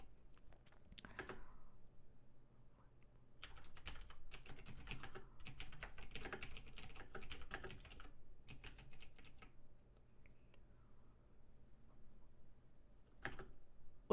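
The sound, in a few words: typing on a computer keyboard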